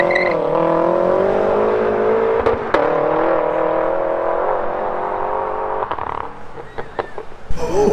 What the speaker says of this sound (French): Oh, elle est un peu énervée cette M5.